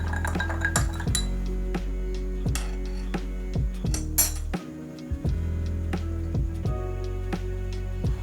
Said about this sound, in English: Throw all this in a glass with a giant ice cube and stir it up.